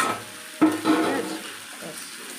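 Dried red chilies dropped into a hot frying pan for a greens fry give a sudden sizzling burst, then a stir and a softer hiss that fades toward the end, with brief talk.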